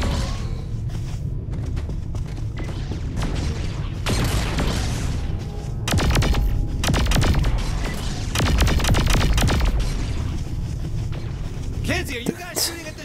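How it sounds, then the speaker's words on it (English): Explosions in the video game Saints Row 4 go off as clusters of sharp, broadband blasts and crackling bursts over a constant rumbling game background, several bursts coming in close succession, with speech heard in places. "Explosions? Either it's under attack or it's coming apart."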